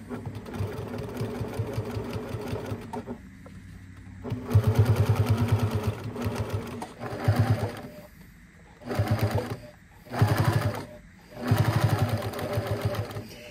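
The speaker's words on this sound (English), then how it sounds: "I'm gonna make sure that I backstitch along the front and the back" A sewing machine backstitches a pot holder with black thread, running in loud, rapid bursts that stop and restart several times, close up and with no speech.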